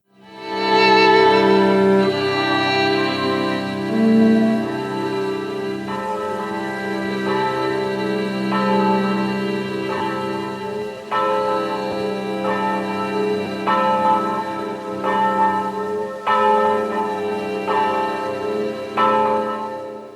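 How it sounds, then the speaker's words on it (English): Church bells toll from the closing shot of the film Sátántangó, several bells layered into a dense, sustained peal with repeated strikes and long ringing overtones, loud and steady for about twenty seconds with no talk. "So here's the bells from that final shot."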